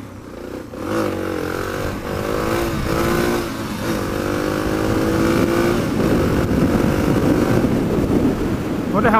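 A CRF 250 dirt bike motorcycle passes outdoors, its engine droning and shifting pitch as it rides by, steady and fairly loud amid wind noise.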